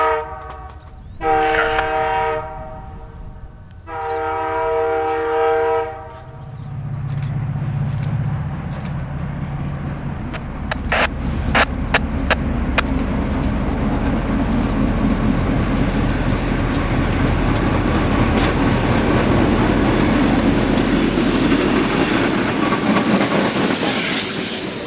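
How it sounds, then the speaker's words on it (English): Canadian Pacific train led by two locomotives with a single car passes close by. Two loud horn blasts sound first, then a rising rumble of engines and wheels that stays loud while wheels squeal and clack. "This was CP A19 southbound with an impressive 1 car, 2 locomotives CP 3090 south."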